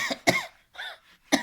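Wet, phlegmy coughs demonstrated after a held breath and exhale, three separate bursts with quiet gaps between them, close and clear.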